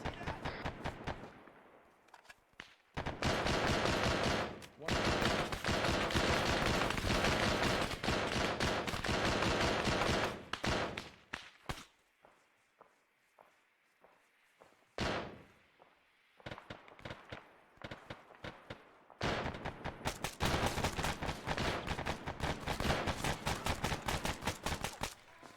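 Heavy gunfire in the military shooter Arma comes as long dense bursts of rapid automatic shots, broken by a quieter stretch of sparse single cracks before resuming loudly.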